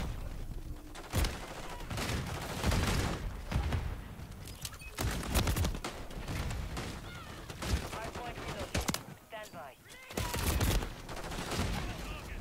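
Shotgun blasts in Call of Duty Modern Warfare 3 online multiplayer, several sharp booming shots at irregular intervals amid game noise, with excited voices talking over the action.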